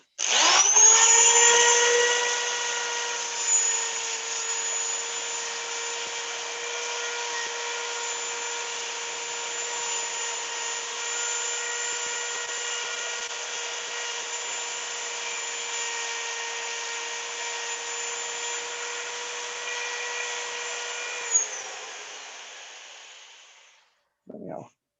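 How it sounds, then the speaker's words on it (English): A power drill runs for a long, continuous stretch while sanding a turned wooden three-sided box, giving a steady high whine with a faint scraping edge before winding down and stopping. "I start with the drill to get any heavy stuff off"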